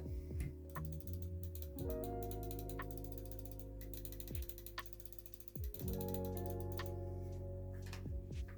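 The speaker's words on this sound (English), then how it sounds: "if I remember to put the screws back in" Small screws being driven back into a gaming computer mouse, a close, continuous ratcheting click with rapid tick-like pawl sounds running steadily through the whole stretch, pausing briefly partway.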